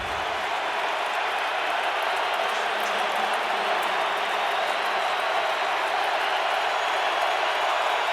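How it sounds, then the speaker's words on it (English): A stadium crowd at an NFL football game between the New England Patriots and the Indianapolis Colts keeps up a steady, dense roar of cheering, loud and unbroken throughout. "Crowd really into it as the Patriots start this drive from their own 20-yard line."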